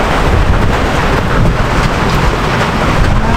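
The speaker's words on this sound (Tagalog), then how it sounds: "Lakas ng ulan!" Heavy rain pours down in a steady loud roar during a downpour, with low rumbling like thunder mixed into the dense wash of noise.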